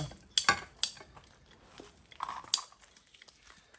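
Sharp chopping and cutting snaps on a water pipe end during farm plumbing work, a few crisp close strikes with clinks and scraping between them, no talking.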